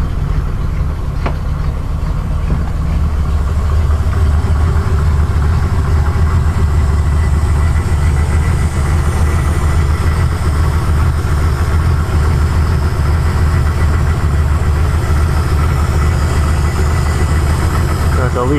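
A Triumph Stag car engine idles steadily throughout, a loud, close, continuous rumble with slight vibration, with a breather hose leak noted.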